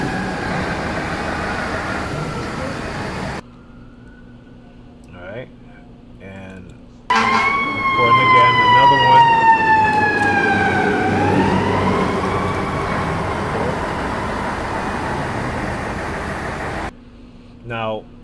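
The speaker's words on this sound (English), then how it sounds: "you hear the fire trucks" Fire truck sirens pass nearby, their wailing tones rising and sweeping down as the trucks go by, loud over steady street noise, with a quieter stretch before and a horn-like burst at the end.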